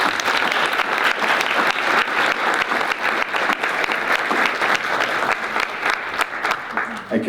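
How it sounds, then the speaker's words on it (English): Sustained applause from a symposium audience for the event staff at a student awards presentation, dense steady clapping that continues throughout, with a few voices mixed in. "So let's give them all a round of applause."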